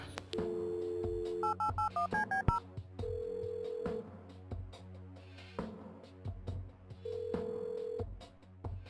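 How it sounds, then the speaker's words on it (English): Telephone dialing in the point-and-click video game Kathy Rain: a run of short keypad tones in quick succession, followed by repeated long ringback tones with pauses between them, clear and close. "Get the phone and let's call the younger Wade."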